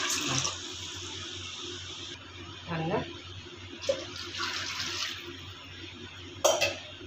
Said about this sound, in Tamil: ஒன்றுக்கும் ஒன்றரை மணிக்கு தண்ணி ஊற்றிக்கலாம்